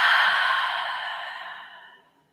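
A single deep, breathy exhale during a yoga cooldown, loud and close at first, then fading smoothly to silence over about two seconds.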